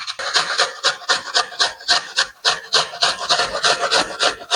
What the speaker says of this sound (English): I've got a white onion, medium to large, so I'm going to grate that to go into the zucchini mixture.